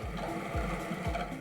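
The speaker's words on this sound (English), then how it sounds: "Although the sound is like a washing machine, I'm glad it works." A repaired Parkside drill's motor runs with a low, churning rumble and periodic thumping like a washing machine, steady and moderately quiet for a brief moment.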